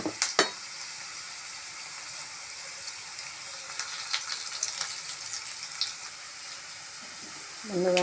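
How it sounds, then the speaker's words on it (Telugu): Green chillies, onions and curry leaves fry in a pan with a steady, even sizzle. Scattered utensil clicks and scrapes come through, and a louder stir or clatter lands near the end. "ఇలా పచ్చిమిర్చి, ఆనియన్స్, కరివేపాకు బాగా ఫ్రై అయ్యాక"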